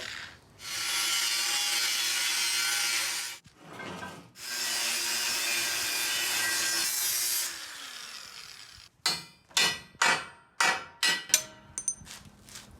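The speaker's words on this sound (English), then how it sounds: "Probably help if I plugged it in. It's not a cordless grinder." A corded angle grinder notches steel for a custom off-road bumper, two long loud grinding runs with a short burst between, then a string of short sharp cuts near the end, with no talk.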